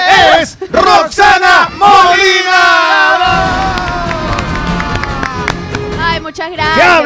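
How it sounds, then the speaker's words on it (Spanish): An audience at an awards ceremony breaks into applause and loud cheering, with shouting voices over the start before a sustained wash of clapping and crowd noise, and a voice calls out again near the end. "Fuerte los aplausos, por favor."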